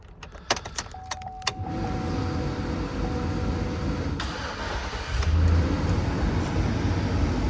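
A Chevrolet Silverado 1500 Z71 4x4 pickup with a 5.3L Vortec V8 and low mileage cranks with some clicks and chimes, then starts and settles into a steady, loud idle that swells slightly near the end, with no talking.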